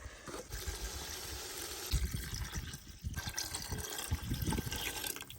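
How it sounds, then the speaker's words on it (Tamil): Water pouring and splashing into a pot for prawn biryani, a fairly quiet gurgling stream with uneven bursts and brief pauses, no talking. "டம்ளர் தண்ணி ஊற்றியாச்சு நல்லா கலக்கி விட்டு அப்படியே கொதிக்க விட்டுருவாங்க"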